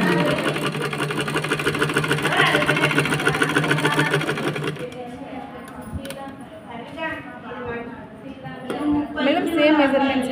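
A sewing machine runs in a fast rapid rattle while stitching a baby frock (jhabla), loud for about five seconds and then stopping, after which someone talks with small handling clicks.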